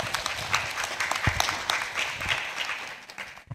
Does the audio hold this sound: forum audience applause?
yes